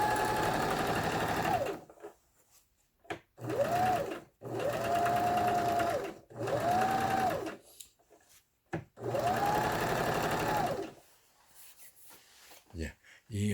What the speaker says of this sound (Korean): 타이완에서 만든 엘라 2600이라는 이런 기계 테스트하는 수리를 마치고 테스트하는 영상이었습니다